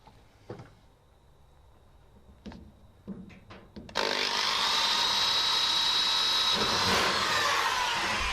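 Power drill boring a hole for a pop rivet on a drag car project, a few short taps and clicks first, then a loud sustained whine that holds steady for several seconds, close by with no talking.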